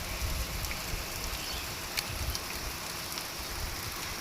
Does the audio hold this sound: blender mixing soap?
no